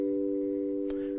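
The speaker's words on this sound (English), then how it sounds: "I'll just load up the electric piano" A sampled and modeled electric piano holds one soft, steady note, mellow and sustained, with a faint click partway through.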